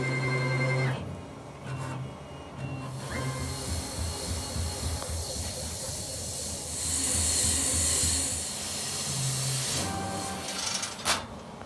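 Boss LS3655 laser cutter cutting plastic hums and hisses steadily, with an exhaust-like airy rush and short tonal beeps near the start and end, close and moderately loud without speech.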